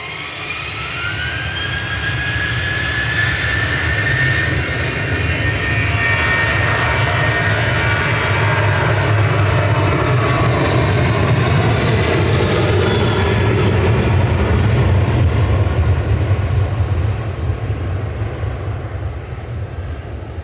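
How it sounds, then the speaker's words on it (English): A Boeing 737-800 jet departs Manchester Airport with a loud, sustained engine roar and rising whine that fills the whole stretch, steady and powerful from nearby. "That's 737-800 departing."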